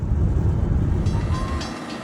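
A freight train rolls past near East Deerfield, Massachusetts, with a heavy low rumble from the wagons and a faint high screech of wheels on rail toward the end.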